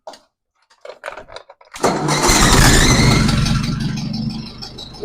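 An old tractor fitted with a loader bucket, three-point hitch and power takeoff cranks over and catches after a few short bursts, then settles into a loud, steady, close idle with no talking.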